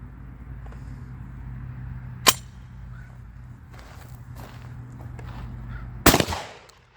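A shotgun fires during function testing, two sharp blasts a few seconds apart, the second louder and followed by rattling handling noise, over a low steady hum.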